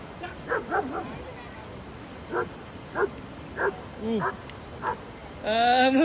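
A dog facing a tiger gives a series of short, sharp barks and yips, about eight spaced bursts at a moderate distance, with a whining, higher call rising at the end.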